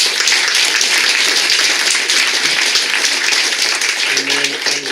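An audience at a candidate forum applauds: sustained, dense clapping from a crowd fills the moment, with a few tonal voice-like sounds near the end.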